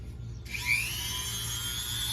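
Dremel rotary tool with a 7/32 bit sharpening an Oregon chainsaw chain, a high whine that starts abruptly and holds steady and close, with a gritty grinding edge as the bit bites.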